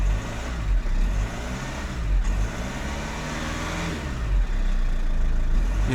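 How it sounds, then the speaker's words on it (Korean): A used diesel car engine idles in park and revs up close, its rumbling pitch rising and falling in smooth swells with no one speaking. "엔진 상태는 악셀을 밟았을 때"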